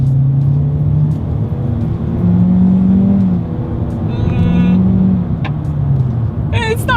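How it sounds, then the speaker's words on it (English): A 2021 Hyundai Elantra accelerating from a rolling start, its engine droning steadily with pitch rising and shifting as it gains speed, heard loud from inside the cabin, with faint chimes near the end. "let's see how quickly we can get this new 2021 Hyundai Elantra here up to speed"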